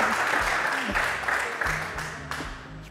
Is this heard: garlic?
no